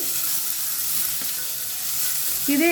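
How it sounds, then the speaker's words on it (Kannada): Chopped onion and curry leaves fry in a pan over a medium flame, giving a steady close sizzle with occasional stirring scrapes and a brief louder crackle near the end. "ಇದೊಂದು ಎರಡು ನಿಮಿಷ ಫ್ರೈ ಮಾಡ್ಕೊಳ್ಳೋಣ ಮೀಡಿಯಮಲ್ಲಿ ಫ್ಲೇಮಲ್ಲಿ"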